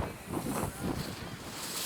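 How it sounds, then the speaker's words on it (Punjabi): Sea waves surge against the shore at Kanyakumari in a steady, broadband wash, buffeted by heavy wind noise on the microphone, with no voices. "ਸਾਹਮਣੇ ਸਮੁੰਦਰ ਦੀਆਂ ਛੱਲਾਂ ਵੱਜੀ ਜਾਂਦੀਆਂ"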